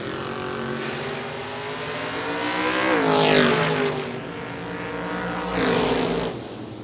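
Loud drag strip engines of a big green Mustang and a 1969 Camaro roaring together, pitch sweeping upward as they accelerate hard, with a second surge near the end; no talking.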